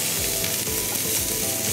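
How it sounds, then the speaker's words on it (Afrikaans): Carrots sizzle and fry in a hot pan, a steady crackling hiss with faint repeated scraping or stirring strokes and no voices. "So ons gaan dit net so vir 5 minute braai."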